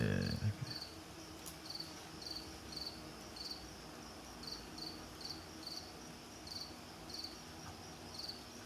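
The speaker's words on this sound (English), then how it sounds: "Give me the crickets." Cricket chirping for a night ambience: short, evenly spaced chirps repeat in a steady rhythm over a faint, continuous background hiss, with no voices.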